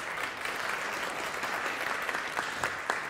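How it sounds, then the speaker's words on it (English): Sustained applause from a live audience greeting the newly appointed chief executive of the Hallé Orchestra, dense steady clapping throughout at moderate level with a few sharper individual claps near the end. "I get applause, how lovely"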